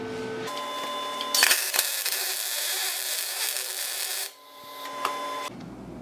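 A welder tack welds on a cast part without preheat, giving a steady crackling hiss lasting about three seconds, close by, with a short second burst after it.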